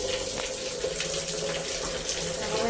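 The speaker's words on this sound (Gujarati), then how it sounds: "નળ ચાલુ કરી દઉં પહેલાં તો હું" Water runs steadily from a bathroom tap at home, a continuous close rushing stream with no pauses and no talk.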